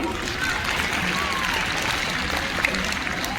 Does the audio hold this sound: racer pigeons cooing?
no